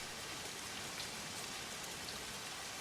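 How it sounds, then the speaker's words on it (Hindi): Heavy rain pours down in a steady, dense hiss that stays even and unbroken throughout, with no voices heard. "बहुत बारिश भी हो रही है"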